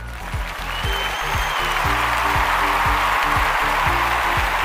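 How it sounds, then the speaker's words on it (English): A crowd applauds steadily, dense clapping that holds at an even loudness throughout with no voices. "I really have to give this journalist a round of applause."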